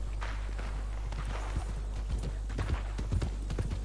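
Hooves of a horse in Red Dead Redemption 2 clip-clop over a steady low hum, the hoofbeats growing busier and more distinct toward the end as the horse picks up pace.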